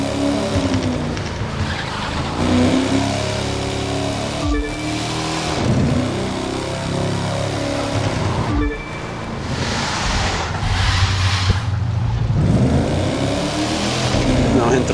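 In The Crew 2 racing game, a Ford Mustang engine revs loudly while the gear fails to engage, with sustained engine roar and tire-like squeal rising and falling over about fifteen seconds.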